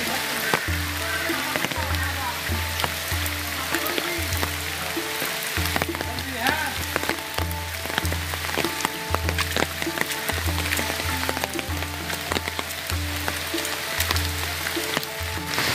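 Steady rain pours down on a wet day in India, a dense hiss of drops on surfaces and water that fills the whole stretch, with a low rhythmic thumping underneath.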